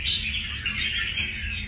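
A caged red-whiskered bulbul sings a bright, continuous run of warbling chirps close by, steady and fairly loud over a low background hum, with no one speaking.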